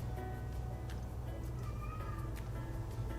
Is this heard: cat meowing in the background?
yes